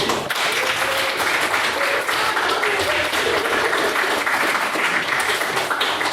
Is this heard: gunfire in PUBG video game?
no